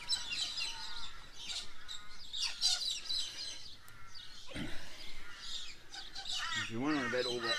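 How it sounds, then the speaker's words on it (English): A crowd of wild birds drawn to scattered food chirps and calls nonstop at moderate distance, with crow-like caws and shrill tweets overlapping. A voice talks underneath the birdsong. "If you're wondering about all that bird noise"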